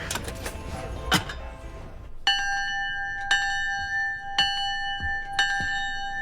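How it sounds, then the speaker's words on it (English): A bell rings in a series of four evenly spaced, clear metallic strikes, each one sustaining into the next. Some clattering and knocking comes before the strikes. "About this bell?"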